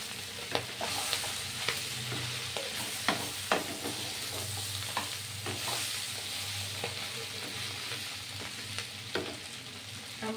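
Ginger sizzles in a pan, a steady close frying crackle with regular scraping stirs and light knocks of the utensil, no speech.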